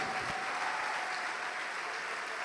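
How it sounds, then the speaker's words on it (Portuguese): A church congregation claps steadily and densely throughout, a continuous wash of applause with a faint tone underneath and no clear voices. "Vamos aplaudir mais ao nome de Jesus."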